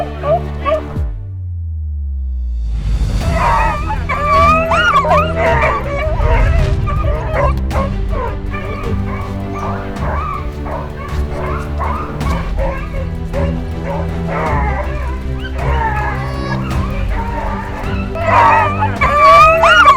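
Pack of rabbit-hunting hounds barking and yelping in a dense, overlapping chorus, loud and close, with a sustained din of yips and whimpers running continuously throughout.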